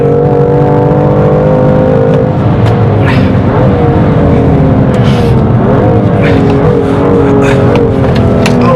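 A BMW M2 Competition lapping a race track, its engine loud and close, revving and pulling hard with rising and falling pitch throughout.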